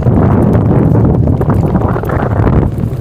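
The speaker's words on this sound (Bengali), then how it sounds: "আমাদের নৌকা কন্ট্রোল করছে সামনে আরও দুইটা নৌকা" Loud rushing wind buffeting the microphone with steady water noise as a houseboat moves along on Tanguar Haor wetland, no voices heard.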